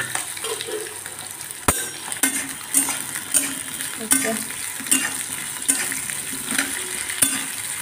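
Chopped onion and bay leaf frying in a pan give a steady loud sizzle, with a spoon knocking against the pan at regular intervals.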